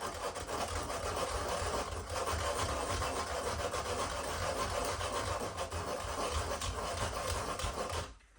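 Sandpaper rubs steadily against a dough gun nozzle for boilies, a continuous close, gritty scraping that stops abruptly near the end.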